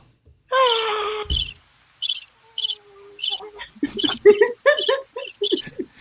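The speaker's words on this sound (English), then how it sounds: "And there's like crickets." A cricket chirping sound effect plays in short, evenly spaced bursts of a high, thin trill, clear and close in an otherwise quiet pause, following a voice and a brief low thump at the start.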